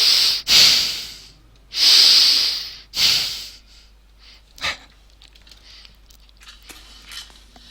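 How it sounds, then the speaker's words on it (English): Heavy breaths pushed close into a microphone: three long loud exhalations with a hissy rush, then a short sharp sniff, followed by faint quiet breathing. "Here's some breathing."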